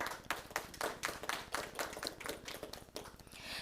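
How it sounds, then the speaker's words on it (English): Applause at a press conference: a small group clapping steadily with dense, rapid hand claps, fairly close and continuous, with no talking over it. "And I think that deserves a round of applause."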